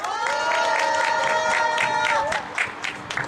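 Applause for a singer at a labor protest rally, a dense steady wash of clapping close by for about two and a half seconds over a sustained musical tone, then thinning to scattered claps.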